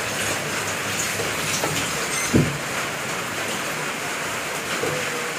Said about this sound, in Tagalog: Naabot na naman po kami ng ulan.